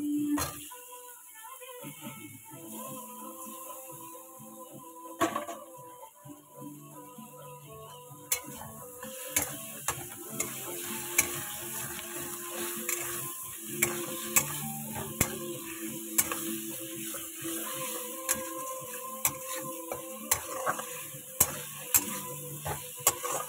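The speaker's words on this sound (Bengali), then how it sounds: "ভালো মতো কষাবো। আচ্ছা, দিয়ে দেবো ভেজে রাখা এই যে আলু" Fried potatoes are sautéed with masala in a pan: a low sizzle with repeated sharp spatula clicks and scrapes that grow busier over time, over a faint steady tonal hum.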